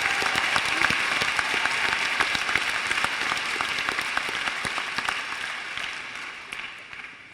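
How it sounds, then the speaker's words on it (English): Audience at a Cherry Hill East 2022 high school graduation ceremony applauding scholarship recipients, dense sustained clapping from a large crowd that holds steady then tapers slightly toward the end. "We can give a round of applause for all our scholarship recipients."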